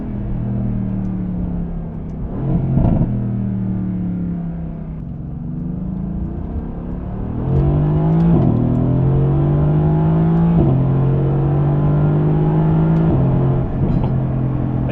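Mercedes-AMG GT or Aston Martin Vantage sports car engine running loud and close, revving through rising gear pulls with a few sharp exhaust pops and crackles breaking in between the surges.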